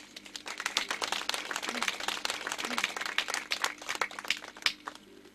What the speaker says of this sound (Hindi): इनके लिए बहुत सारी तालियां होनी चाहिए।